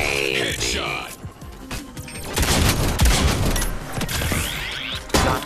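Rapid bursts of gunfire from the VR shooter Robo Recall crackle and boom in quick clusters, mixed with mechanical clatter, while a player talks excitedly over them.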